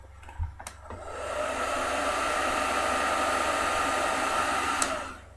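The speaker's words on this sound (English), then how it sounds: "I'm going to apply a little bit more heat using my hair dryer." A hair dryer switches on after a couple of knocks and blows with a steady, close whooshing hiss, heating nail wraps, before cutting off near the end.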